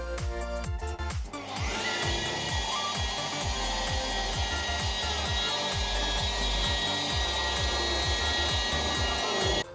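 A polishing machine runs continuously at slow speed while buffing a 2001 Ford Focus headlight, a steady loud whirring and rubbing drone with a rhythmic low thumping pulse throughout.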